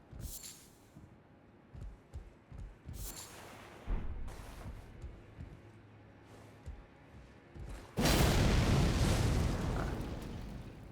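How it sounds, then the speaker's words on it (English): Elden Ring: Shadow of the Erdtree combat with scattered thuds and impacts, then a loud, sustained explosive blast that roars up near the end and keeps rumbling to the close. "if that explosion had hit the fire barrels that were right there, I'd be dead"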